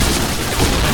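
A loud, dense burst of explosive rumbling and crackling fills the whole moment, like a game blast going off up close.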